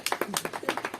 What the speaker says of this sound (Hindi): सारे बच्चे ताली बजाओ